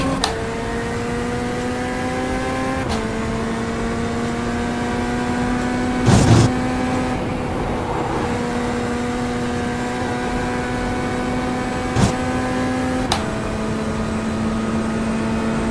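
A GT3 race car engine in the iRacing sim drones steadily at high revs with sharp gear shifts every few seconds, the pitch dropping and climbing again; no voices.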